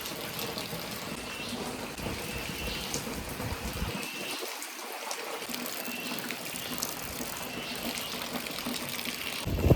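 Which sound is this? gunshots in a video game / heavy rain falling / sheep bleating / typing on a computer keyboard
heavy rain falling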